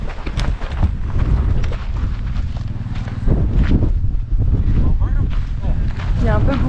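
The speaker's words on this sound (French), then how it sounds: "Il y a un peu beaucoup de vent." Strong wind buffets the microphone on the slopes of Mount Etna, a loud, continuous low rumble with gusty surges, while people talk over it and footsteps crunch.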